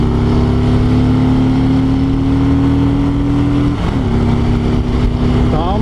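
A loud, steady 2020 Harley-Davidson Road Glide motorcycle engine drones under acceleration with a strong tonal whine that dips briefly, as if shifting gear, then climbs in pitch again near the end.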